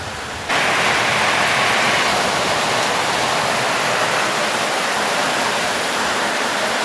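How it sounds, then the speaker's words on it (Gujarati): Heavy afternoon rain pours down on a farm field, with some wind behind it. The steady, loud hissing roar starts abruptly after a brief moment and continues unbroken. "વરસાદ એટલો આવે છે કે એમ અંધારા જેવું થઈ ગયું છે"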